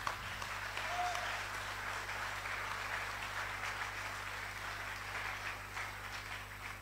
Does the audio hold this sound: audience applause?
yes